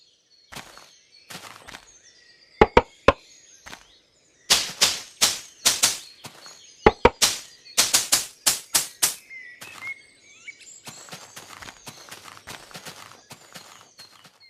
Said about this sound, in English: there are birds chirping in the background, along with some other unused sound effects